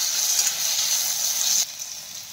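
Tomatoes with onion frying in a pan, a bright continuous sizzle that drops suddenly to a softer hiss partway through, no one talking.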